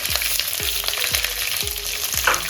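Crushed garlic and small shallots fry in hot oil for a Tamil-style chicken fry, giving a loud, constant sizzle broken by regular stirring knocks about every half second.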